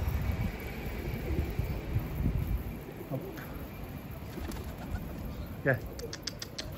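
A tumbler pigeon coos faintly outdoors against constant background hiss and rumble, with a few soft chirps and a short sharper call near the end.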